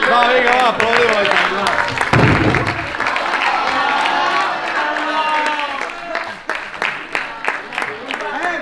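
Students at a school event in La Bisbal clap and cheer in a broad, steady burst of applause, with shouting and voices mixed through it. The applause breaks into looser scattered claps toward the end.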